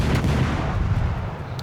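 Heavy warship guns fire in the naval battle game World of Warships, producing a deep booming blast that rolls and decays over about a second and a half, loud and alone.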